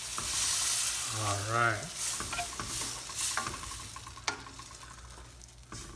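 Coconut milk poured into a simmering pan of ginataang laing, giving a steady sizzle with stirring and light utensil clinks, and a short spoken phrase near the start.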